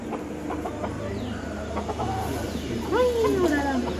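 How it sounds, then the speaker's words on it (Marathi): Village roosters crow in a Konkan village, with one clear, rising-then-falling crow near the end over a busy outdoor background where people talk. "गावठी कोंबडे सगळे."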